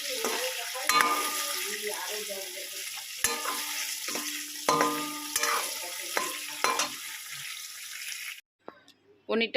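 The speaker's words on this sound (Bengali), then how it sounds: "কড়াইতে তেল বসিয়ে দিয়েছি এবারে পনিরটাকে হালকা করে ভেজে নেব" Hot oil sizzles continuously as paneer fries lightly in a kadai, with clinks and scrapes of a utensil stirring the pan, ending in a sudden quiet with a few knocks.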